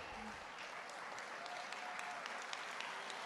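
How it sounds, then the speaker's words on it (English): Graduates applauding faculty at a community college commencement ceremony, a faint, distant wash of crowd clapping that holds steady throughout. "Graduates, feel free to applaud them,"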